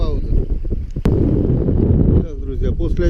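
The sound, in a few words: hurricane-force wind on a fishing trip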